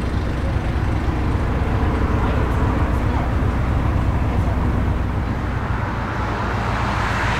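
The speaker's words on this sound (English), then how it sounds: "we know the traffic is noisy" Steady road traffic drones beside a narrowboat moored on the Trent & Mersey Canal, a continuous loud roar of passing vehicles with no clear breaks, while speech is likely mixed in underneath.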